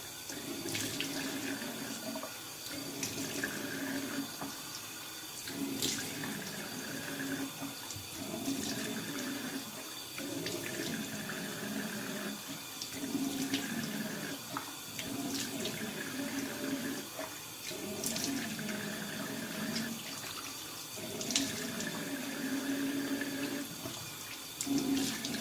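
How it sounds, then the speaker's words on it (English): Tap water runs steadily into a bathroom sink while a face is rinsed, a continuous moderate splashing with rhythmic dips and surges as hands scoop water, close and without talk. "So I'm gonna go ahead and rinse my face here."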